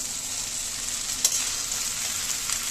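Chowmein frying in a pan with chilli powder, a steady bright sizzle held close and continuous, with one brief clink partway through.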